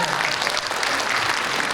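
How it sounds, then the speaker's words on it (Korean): Audience applause at a politician's constituency report meeting, a dense, steady roar of clapping from a large crowd, loud and continuous. "박수 한번 주세요"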